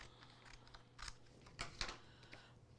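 Poor-quality scissors cut a piece of Siser EasyPSV patterned vinyl, giving a few quiet, crisp snips near the middle of an otherwise hushed stretch with no talking.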